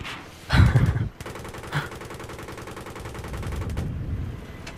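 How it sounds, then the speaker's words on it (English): Rapid cannon fire from an AH-1Z Viper attack helicopter on a strafing run in Battlefield 3: a loud, dense burst, a brief follow-up shot, then a rumbling stretch of continued fire over steady rotor and engine drone. "So again, just strafing runs here."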